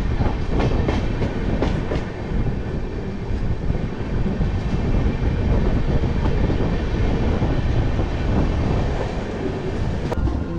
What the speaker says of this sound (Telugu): ట్రైన్ ఏమో బాగా స్పీడ్గా వెళ్తుంది.